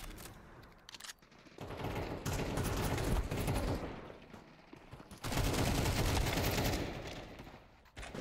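Gunshots in Counter-Strike 2: sustained bursts of rapid automatic fire, loud and close, in two long stretches with a short lull between them and almost no talking.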